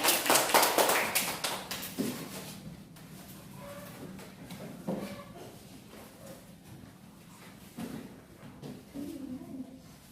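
A microteaching classroom breaks into a short burst of clapping at the start that quickly dies away into a quieter room with scattered taps and a voice speaking.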